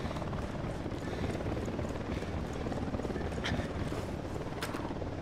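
A helicopter approaches in the video game Ghost Recon Wildlands, its rotor a dense, loud, continuous rumbling throb that holds steady, with a couple of short sharp clicks near the end.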